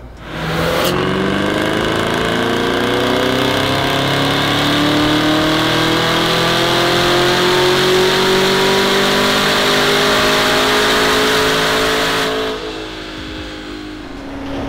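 A Camaro strapped to a dyno revs hard through a full pull, its engine note climbing steadily in a loud, sustained roar before dropping off near the end.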